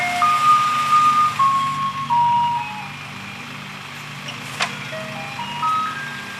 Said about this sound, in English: It's the singing recycling truck.